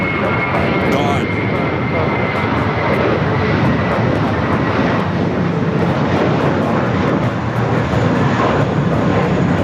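At LAX, an airplane bound for JFK roars with a steady, broad jet-engine wash that stays loud and constant, with a faint whine layered on top.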